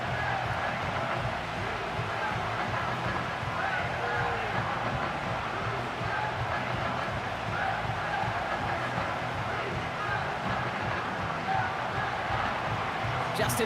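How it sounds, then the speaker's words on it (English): A home stadium crowd in the Madden NFL 25 football video game keeps up a steady, loud roar of cheering and rallying, a dense wash of many voices that never drops off. "you can already hear this home crowd rallying in support of that upset"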